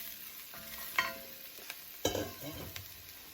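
Chopped squash drops into a hot pan of red lentil curry and sizzles loudly, with scraping stirs and two sharper bursts of frying as the pieces are tossed, over a steady background crackle.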